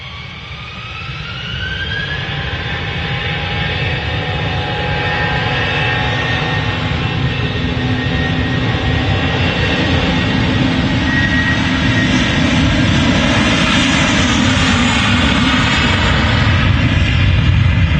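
British Airways jet airliner at Manchester Airport, with a loud, steadily building engine roar and whine that holds strong and close for the whole stretch, with no talk.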